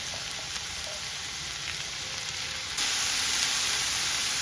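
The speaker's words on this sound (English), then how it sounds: "I'm also adding my mushrooms and I'm going to cook the two together." Mushrooms and onions sautéing together in avocado oil, a steady close sizzle of frying that holds even throughout and grows slightly louder partway through.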